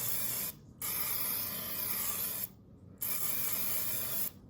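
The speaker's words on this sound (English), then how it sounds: "So I'm just gonna kind of spray olive oil on here." An olive oil sprayer mists oil onto food in a few long, close hissing bursts separated by short pauses, with no talking.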